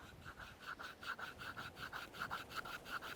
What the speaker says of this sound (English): But what's a knife video without doing some cuts? So let me find some wood and use it.